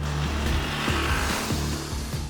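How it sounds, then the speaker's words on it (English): Exhaust note of a 2021 Jawa 42 2.1 BS6 motorcycle at low revs, a steady deep engine drone with a few rising throttle blips, loud and close throughout. "And the exhaust note, it sounds nice too,"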